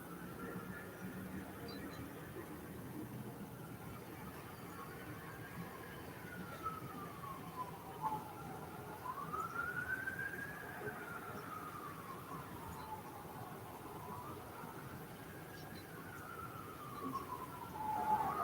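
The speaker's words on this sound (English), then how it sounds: "There's a lot of sirens in my neighborhood." A distant siren wails up and down in slow sweeping cycles, faint and steady over a low background hum.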